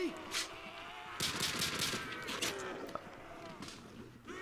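Gunfire in a custom zombies map for Call of Duty, several sharp shots in a quick burst, fairly close, over a busy game background with brief voices.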